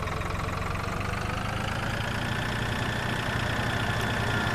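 A tractor engine idling in Farming Simulator 2013, a continuous dense mechanical rumble with a low knocking pulse, steady and loud throughout, with no voices.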